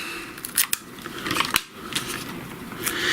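Scissors snip through double-sided tape while making seed packet envelopes, several crisp close cuts with a short slicing rasp between them, loud and alone.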